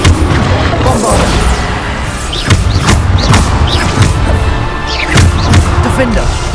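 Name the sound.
Bombarda blasting spell explosion from the video game Hogwarts Legacy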